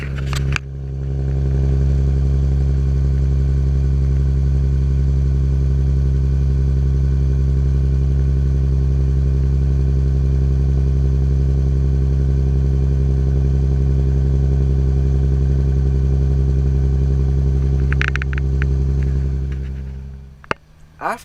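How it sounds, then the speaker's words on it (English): A 2016 Jaguar F-Type engine runs at a loud, steady, deep drone for about twenty seconds, with a short rise in revs near the end before it cuts off. "ask someone to rev up the engine a little bit"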